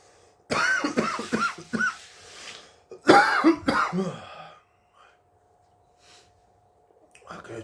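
A man coughs and clears his throat after vaping a custard e-liquid with 50-50 base and 8 mg nicotine: a couple of rough, close coughing bouts with breathy gaps, then quiet.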